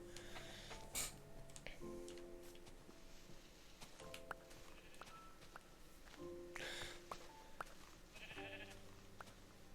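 Minecraft sheep bleat in short repeated calls amid game sounds and footsteps, faint overall with a few bleats standing out, no talking.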